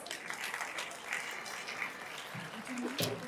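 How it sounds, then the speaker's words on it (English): An audience applauds to welcome a guest speaker at an event, a sustained round of many hands clapping with faint voices mixed in underneath. "With a big round of applause."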